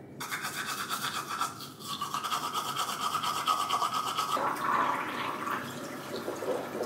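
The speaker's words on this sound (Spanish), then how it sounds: "quiero lavar los dientes antes de irme" A toothbrush scrubs teeth close to the mic in a steady, continuous bristly brushing that changes slightly in tone partway through, with no talking.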